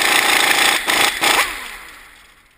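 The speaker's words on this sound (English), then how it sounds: "Now I'm going to remove the hub nut, which is the 32 millimeter nut on the end of the axle." The 32 mm rear axle hub nut comes off a Ford Explorer in a loud, close mechanical whirring burst. After a couple of quick stutters, it winds down and fades to quiet.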